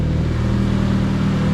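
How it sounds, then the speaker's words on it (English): A K-swapped Subaru STI engine revs on a dyno, giving a loud, steady, sustained high-rpm drone with a strong low rumble and no voices. "This time I'm gonna rev it up a little bit higher"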